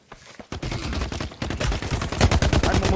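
Dense, sustained gunfire from The Cycle: Frontier on Tharis Island: rapid automatic bursts crackle almost without pause after a brief quiet opening, loud and close.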